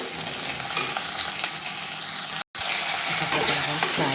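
Ginger garlic paste fries with dried fish over a high flame, producing a dense, close sizzle with stirring scrapes and a brief cut in the middle, with low voices faintly underneath.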